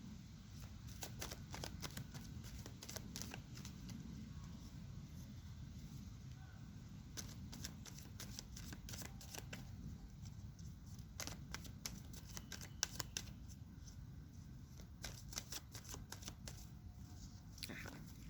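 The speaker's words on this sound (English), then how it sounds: "I do feel like I want to get one more card." Tarot cards shuffled by hand, soft papery riffles and flicks coming in irregular bursts, faint and close in a quiet room.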